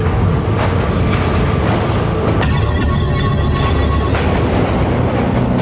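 A subway train rushes past close by, a loud rumbling roar of wheels on rail with a sharp squeal and clatter midway, steady throughout with no voices.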